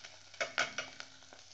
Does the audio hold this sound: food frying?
yes